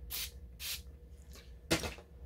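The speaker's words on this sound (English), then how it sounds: "I'm going to take some of my setting spray." Makeup setting spray is misted onto a brush in several short hissing bursts, two quick ones, a faint one, then a final louder spritz, close and quiet.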